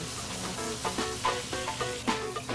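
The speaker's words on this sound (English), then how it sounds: "Nothing like the smell of filet mignon cooking." Filet mignon sizzles steadily in a pan, a continuous frying hiss with a few louder crackling bursts from the meat, heard close and alone with no talk.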